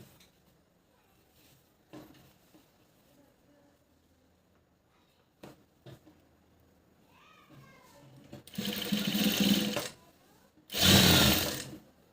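After quiet handling and a few soft knocks, a sewing machine runs in two loud, close bursts of rapid whirring stitches while a puff sleeve is joined, the second burst shorter and sharper.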